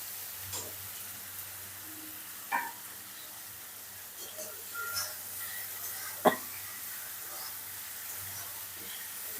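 Onions, tomatoes and potatoes fry in a pan for a fish kalia. A faint, steady sizzle runs throughout, broken by a few brief knocks of a utensil against the pan.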